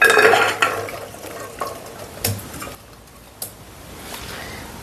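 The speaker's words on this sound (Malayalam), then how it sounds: "നമുക്കിത് കുക്കറിലേക്കിടാം." Chopped sambar vegetable pieces for an Onam-style sambar tipped into a steel pressure cooker, giving a few scattered clattering bumps and scrapes against the pot over a quiet kitchen background, with no talking.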